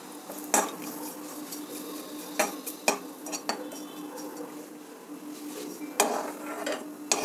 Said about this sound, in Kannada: ಹುಣಸೆ ಹಣ್ಣು ಹುರಿತಾ ಇದ್ದೀನಿ